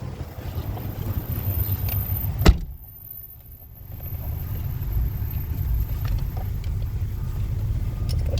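A 1998 Toyota Tacoma pickup truck heard from inside the cab, a sharp click or thump followed by a steady low engine rumble that keeps running as the drive begins.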